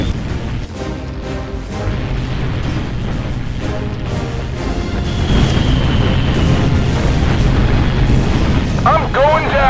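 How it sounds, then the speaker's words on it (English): Heavy rumbling explosions and booming enemy fire in a Battlestations: Pacific naval battle off Okinawa, a dense continuous roar that swells louder midway, with voices in the mix. "Enemy fire is being directed at us!"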